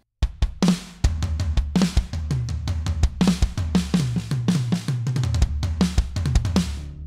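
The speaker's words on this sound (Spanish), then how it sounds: "En una batería muchísimo más silenciosa, pero que suena así." A drum kit fitted with mesh heads is played in a busy groove, the kick, snare, tom and cymbal hits sounding dry and damped, close and steady for about seven seconds with no talking.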